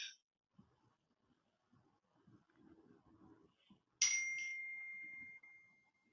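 A computer message notification plays a single bright chime that rings out and fades slowly over a quiet room, following faint murmurs and soft rustling.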